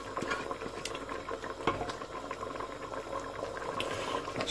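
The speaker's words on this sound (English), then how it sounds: "Bubbling away, so let's add all those great flavours." Urid dal simmers in a pan after a tarka of spices is added, giving a steady soft bubbling and popping close by, with faint clinks and no voices.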